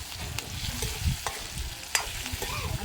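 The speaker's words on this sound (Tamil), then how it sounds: "அந்த கருவேப்பிலை, வெங்காயம், தக்காளி எல்லாமே நல்லா வதங்கணும்." Curry leaves, onion and tomato are sautéed in a pan, giving a continuous soft sizzle with scraping stirring strokes and a few sharper clicks of the spoon against the pan.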